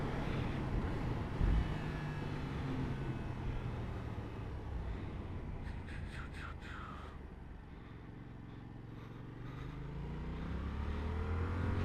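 A Yamaha R7 motorcycle leans through a corner on the road, its engine a steady droning hum mixed with wind rush. The pitch shifts as the bike eases through the bend and swells again near the end.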